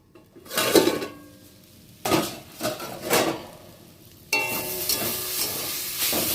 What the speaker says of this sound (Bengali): এবার ঢাকাটা খুলে একটু নেড়েচেড়ে ভেজে নেব